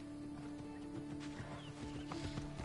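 A horse in Assassin's Creed Odyssey, with soft hoof clops and a brief whinny heard faintly over a steady low ambient hum.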